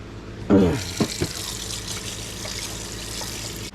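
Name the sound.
water running from tap into sink, washing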